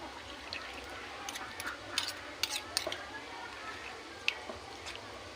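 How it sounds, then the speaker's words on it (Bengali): Metal spoon pressing and scraping boiled tomatoes and beetroot in a bowl, a few soft clinks and squishes spread through the clip over faint background noise. "এই চামচ দিয়ে চেপে চেপে নিচ্ছি।"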